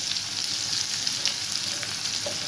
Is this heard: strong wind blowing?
no